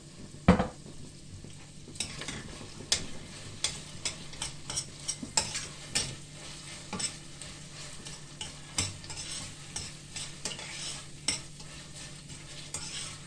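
Meat sizzles in a pan with onion, garlic and pepper and tomato paste while a utensil stirs and scrapes it, giving repeated sharp clinks over a low, steady frying hiss, close and without talk.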